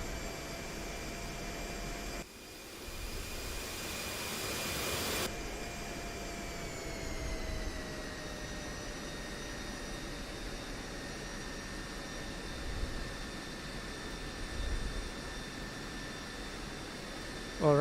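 F-16C Viper jet taxiing on the ground in the DCS World flight game, a steady whining turbine roar with tonal hums that dip slightly in pitch, a loud noise burst early on, continuous with no talk.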